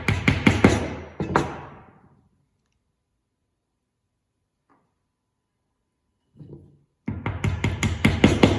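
Sharp hammer blows drive wooden dowels in quick repeated bursts at the start and again at the end, separated by a long silence with one faint tap.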